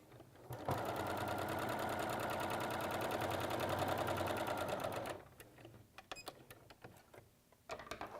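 A sewing machine stitches a quarter-inch seam on fabric for half square triangles, running in a fast, loud, even rhythm for several seconds before stopping, followed by scattered handling clicks.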